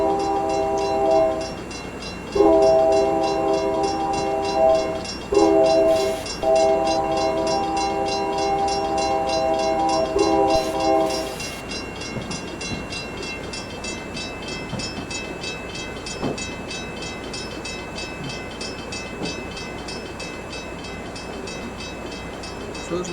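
An F40PH locomotive in the Railworks train simulator sounds a long horn in several loud blasts with brief gaps, then rumbles on with rail clatter that fades slightly into steady running noise.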